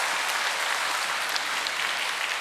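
Large audience at a Korean peace blessing ceremony clapping loudly and continuously, a dense even wash of applause throughout.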